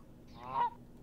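Single goose honk in the VRChat video game, a short nasal blare lasting about half a second, fairly loud against a quiet background.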